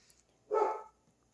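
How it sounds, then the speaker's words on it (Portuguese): A pet dog at home lets out a single short bark, moderately loud and alone against a quiet room. "Meu cachorro tá latindo"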